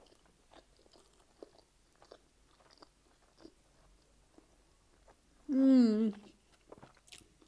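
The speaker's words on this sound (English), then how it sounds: "Let me take a big bite." Someone takes a big bite of a large Mexican chicken burrito, with soft crunching and chewing sounds at close range, then a loud satisfied hum.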